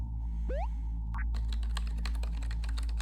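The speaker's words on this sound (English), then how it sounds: "Just punch that keyboard." Keyboard typing inside a sci-fi escape video game set at a chip-making facility: a steady run of rapid, fairly loud keystrokes over a constant low machine hum, after a short rising electronic beep, with no talk.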